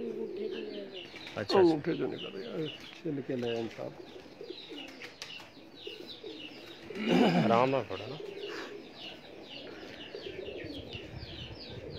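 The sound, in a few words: pigeons cooing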